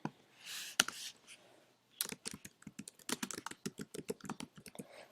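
Someone types a form title on a computer keyboard, producing quiet, close, quick runs of key clicks after a brief pause, with no voices.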